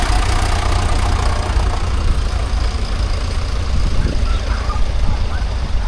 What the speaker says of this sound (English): there's a tractor behind me. What one's that one? That's a Super Major.